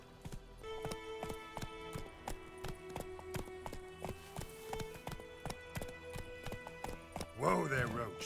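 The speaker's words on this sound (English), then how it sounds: "Whoa there, Roach" Horse hooves clip-clop at a steady pace from a horse ridden in The Witcher 3, set over a tonal game music bed, with a brief vocal sound near the end.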